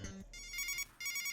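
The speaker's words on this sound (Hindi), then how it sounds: "फोन आ गया इसलिए चुप रह गया" A phone ringtone plays a bright electronic melody in two quick repeating bursts with a brief gap between them, loud and close, no talking.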